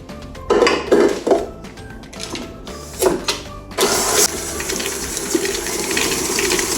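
White and brown sugar beaten in a bowl for homemade oatmeal cookies, starting with irregular clanks and scraping of utensil on the bowl, then turning into a loud, steady mechanical whir of a mixer, close and without talk.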